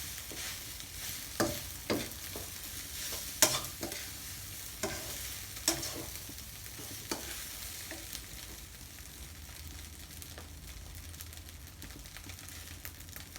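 Eggs sizzle and crackle in hot oil while a utensil scrapes and stirs around a wok for fried rice with canned fish, with sharp clinks at irregular moments.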